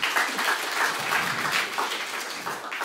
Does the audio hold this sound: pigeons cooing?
no